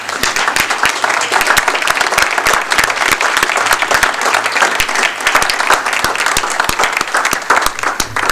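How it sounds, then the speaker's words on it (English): Sustained applause from an audience at a school board meeting honoring teachers, dense steady clapping filling the room for the whole stretch with no talk over it. "Please join me in congratulating them and give them a round of applause."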